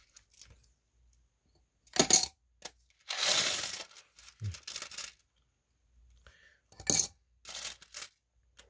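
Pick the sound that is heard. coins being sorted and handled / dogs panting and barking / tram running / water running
coins being sorted and handled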